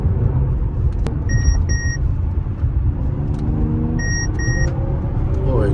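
A car drives through traffic, heard from inside as a steady low engine and road rumble with two short pairs of electronic beeps.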